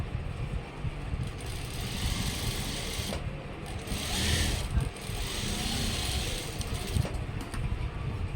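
Sewing machine stitching the folded shoulder and back panel of a chudidar-style school uniform coat, a steady continuous mechanical whir with a low rattling drone that swells slightly midway, running alone without talk.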